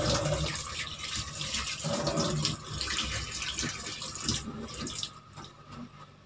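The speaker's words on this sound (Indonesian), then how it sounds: "Bilas dengan air yang mengalir." Knife blades rinsed under running tap water: a steady, fairly loud rush of water splashing over the metal, continuous for several seconds before fading out near the end.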